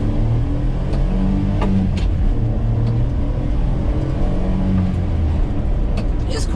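A Honda kei truck's small engine drones steadily while driving, with a continuous low rumble and road noise inside the cab, fairly loud and close, without a break.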